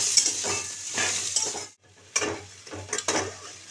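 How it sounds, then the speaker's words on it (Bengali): Chopped tomato frying in a pan with fried spices, a near sizzle broken by clinking scrapes of a spoon stirring against the pan, with a brief near-silent pause midway. "টমেটোটা দিচ্ছি।"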